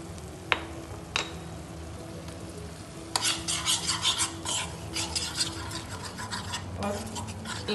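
Amul fresh cream being stirred into a sizzling sauce in a pan, a spoon scraping and swirling in steady strokes over a constant low frying hiss, close and moderately loud.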